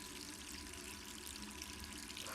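A faucet runs steadily in Resident Evil 3, a faint, continuous hiss of flowing water with no talk.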